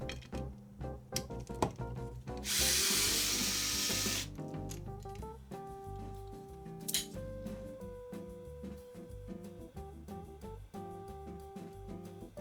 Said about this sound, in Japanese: 錆びているビスを外していきます。